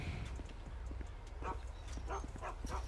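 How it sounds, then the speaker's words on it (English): A dog barks several times in GTA 5 during a delivery job at a house. The short barks are moderately near and are spread over a low rumbling background, with someone talking faintly. "You ain't about to bark at me like that."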